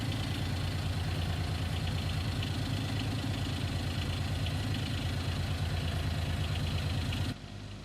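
A small John Deere Gator utility vehicle engine in Farming Simulator 19 labours at low power, a steady throbbing mid-low drone that holds constant for about seven seconds, then drops off slightly.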